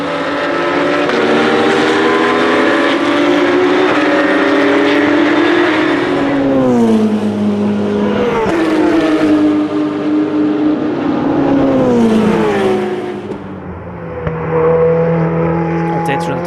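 Race cars at the Dijon Prenois circuit, including a Ferrari, scream past while overtaking, engines revving and shifting through repeated rising and falling sweeps, loud and close, with commentary running over the top.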